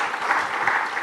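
Audience applause at a Kenyan blockchain and crypto conference, a brief steady burst of clapping with no talk over it.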